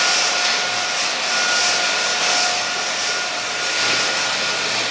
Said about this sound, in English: We're going to fix that with a 120 grit belt on this machine.